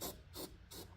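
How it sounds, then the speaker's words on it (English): Aerosol fluid sprayed onto the air filter of a Predator 670 engine with a freshly cleaned carburetor to help it start: three quick, faint hissing bursts in fast succession, with no voices. "I'm just spraying on top of the air filter just to inspire or inspiration to get it going"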